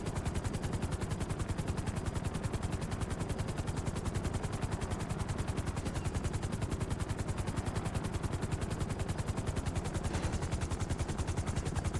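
A helicopter lands in Grand Theft Auto V, with a dense, rapid rotor chop that pulses continuously and evenly at moderate volume throughout.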